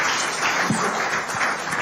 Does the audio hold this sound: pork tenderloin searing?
no